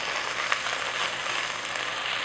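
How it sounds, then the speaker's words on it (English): About eight garlic cloves frying in a pan for a vegan sausage and lentil stew, giving an even, moderately loud hiss of sizzling oil with no talking. "So that was about 8 cloves of garlic I just dropped in there. Let that cook a second."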